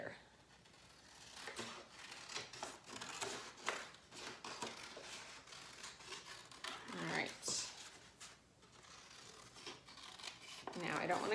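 Scissors cutting paper for an elementary landscape art project, several short snipping and crinkling strokes spread across the clip, quiet and close.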